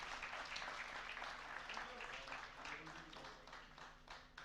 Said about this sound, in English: Let's not stop the tradition of clapping and appreciating.